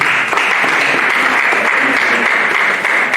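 A church congregation applauding together, a steady dense wash of clapping that fills the whole stretch at close, loud level with no break.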